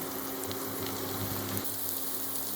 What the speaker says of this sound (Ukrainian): І так нарізали грибочки і докидаємо їх до цибульки, яка вже трішечки позолотилася.